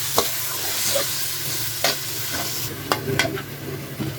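Pieces of surma fish sizzle steadily in a spiced pan while being sautéed, with repeated scraping and stirring clicks of a utensil against the pan, close and fairly quiet, no voices.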